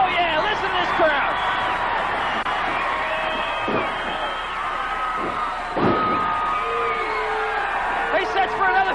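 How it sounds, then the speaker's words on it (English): Loud wrestling arena crowd at a 1986 Mid South match between Steve Williams and Dick Slater, cheering and whooping continuously, with a commentator talking over the roar. "Oh, yeah, listen to this crowd."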